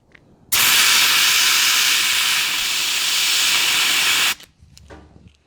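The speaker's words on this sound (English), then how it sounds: "you can blast it out with the air compressor" Compressed air blasts fluid out of a hydraulic line on an old Yanmar tractor, a single loud sustained hiss lasting about four seconds, starting and stopping abruptly, followed by faint clatter.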